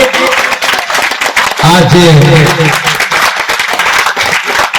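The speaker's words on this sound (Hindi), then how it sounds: "जोरदार ताली बजा के इनका स्वागत कीजिए।" Audience applause welcoming a guest at a Teachers' Day school function, a burst of clapping rising mid-clip over a loud, busy hall with a voice speaking throughout.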